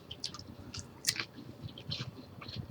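Someone chews a crunchy taco close up, with a run of small crisp crunches and wet chewing sounds at an irregular rhythm, quiet and with no talking.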